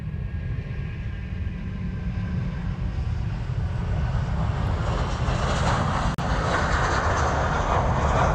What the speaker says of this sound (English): That was Hawaiian Flight 6 heading off